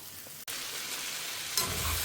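Okra sautés in a pan for a Tamil tamarind pachadi, a soft continuous frying hiss with a sharp click near the start and stirring later.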